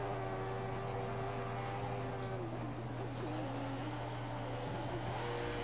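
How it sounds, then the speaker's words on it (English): Formula 1 car engine screaming at full revs, maximum power, while chasing another car in the F1 2014 racing game; a steady loud tonal engine drone runs unbroken throughout, with slight pitch wavering. "the car ahead is trying to create a gap. He's running full revs, maximum power."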